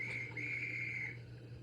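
A sound-equipped Rapido USATC S160 model steam locomotive sounds its whistle, one steady high tone held for about a second over a low background hum, then fading out.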